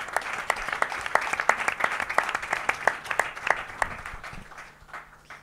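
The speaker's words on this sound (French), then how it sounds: "on peut les applaudir pour ça." Applause from a conference audience, a modest group clapping in quick, distinct claps that thin out and fade over a few seconds.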